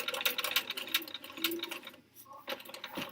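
A sewing machine stitches a quilt block, running in rapid clattering bursts up close, pausing briefly, then doing a short stitch in place.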